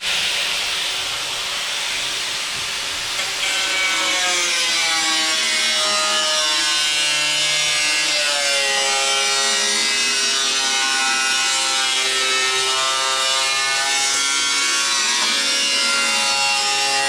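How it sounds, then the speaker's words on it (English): Jigsaw cutting aluminum panel on an Ultra4 race car, a steady loud buzzing rasp that runs continuously for the whole stretch with a rising whine, no talking. "I find the jigsaw works pretty good for the aluminum."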